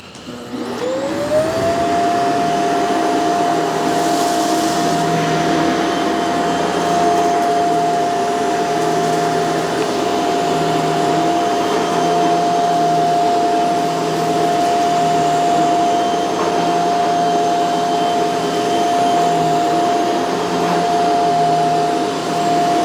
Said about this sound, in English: Let's see how well the Shark performs here.